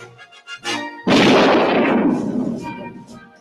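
A gunshot in a movie scene: one loud, close blast with a long, rumbling decay, following a moment of brief voices and softer sounds.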